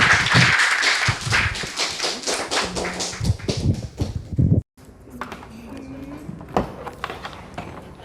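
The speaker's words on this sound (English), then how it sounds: "Y'all clap it up for her." An audience at a university hip hop talk claps in a short burst of quick, scattered hand claps up close; the sound cuts off abruptly, then someone speaks.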